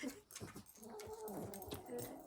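Two dogs whimper and whine softly while one sits on the other's back in play, making faint, intermittent high cries over a low, quiet background.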